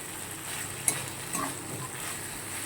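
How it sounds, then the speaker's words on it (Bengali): Sliced okra fries in a pan, a soft steady sizzle up close with a couple of faint utensil taps, no voices. "ভেন্ডিটা আমার পুরো ভাজা ভাজাও হয়ে এসছে।"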